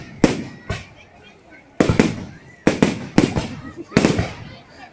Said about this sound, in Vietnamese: Người ta có pháo hoa mình quay định kìa.